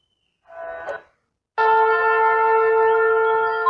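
A talking Bhagavad Gita book powers on after its power button is held, giving a short soft tone followed by a loud, sustained harmonic chime that rings steadily for about two seconds.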